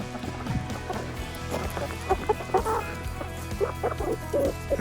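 Backyard homestead chickens cluck in a steady stream of short calls close by, with soft footsteps and shuffling underneath.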